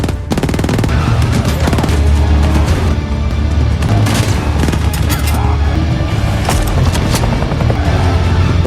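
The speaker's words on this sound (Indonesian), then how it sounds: "Baku tembak dimulai." A loud, dense shootout of sustained automatic gunfire and overlapping booms that never lets up, with a helicopter chase and tunnel fight in a gangster action film.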